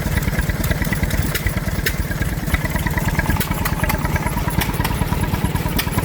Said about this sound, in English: soon be celebrating 90 years of petter engines. The A-type